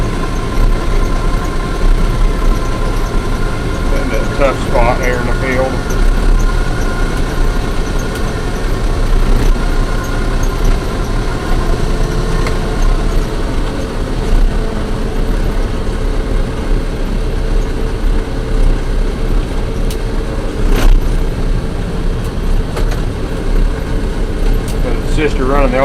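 A White 9700 combine harvester cutting beans in a field, its engine a steady, loud, close drone with constant mechanical rumble and hum, occasional clicks and clatter throughout, with no letup over the whole stretch.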